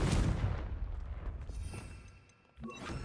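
A Confringo spell in Hogwarts Legacy bursts with a loud booming blast that rumbles and fades over about two seconds, then a second sharp impact hits near the end.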